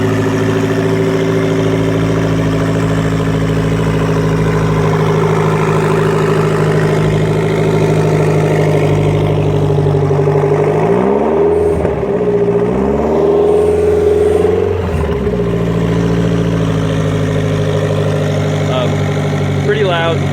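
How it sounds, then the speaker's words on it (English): Lotus Esprit V8 with a loud aftermarket exhaust idles with a steady, deep burble, then blips through a few quick revs before settling back, loud and close. "we'll start up the Esprit, see what it sounds like"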